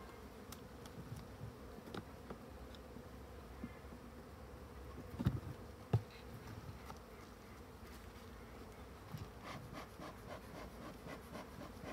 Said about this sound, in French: abeille noire, donc un petit peu nerveuse cette colonie en principe